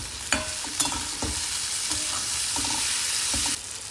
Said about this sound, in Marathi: हे पुन्हा छान आपण ढवळून घेणार